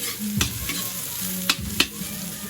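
Garlic and onion sauté in a hot pan with a steady close sizzle, punctuated by a few sharp scrapes of a spatula stirring against the metal.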